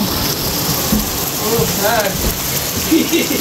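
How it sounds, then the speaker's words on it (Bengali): Heavy rain pours steadily in a dense, loud hiss, with faint voices murmuring underneath. "সেই ঝুম বৃষ্টি শুরু হয়েছে"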